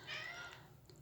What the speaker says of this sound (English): you hear my cat meowing over here in the background